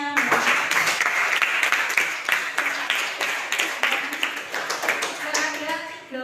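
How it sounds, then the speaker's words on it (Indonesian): A classroom of students applauding a student group, steady loud clapping from many hands that continues throughout and tapers off at the end. "Diberi aplaus dulu untuk kelompoknya"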